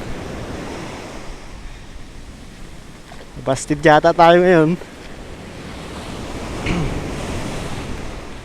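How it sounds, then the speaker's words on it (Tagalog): Heavy surf crashes continuously along a Mindoro shore as a typhoon brings rough seas, a constant roaring wash with wind noise on the microphone, while someone speaks briefly in the middle. "Tapos ang lalaki ng alon."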